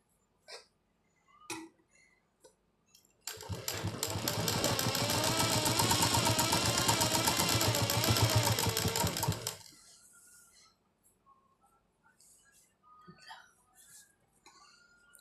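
An electric sewing machine stitching fabric for a garment runs in one loud, steady buzzing burst of several seconds, with quiet handling clicks before and after.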